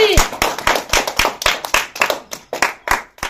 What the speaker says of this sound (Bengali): তো মাসা জন্য সবাই একটা হাততালি।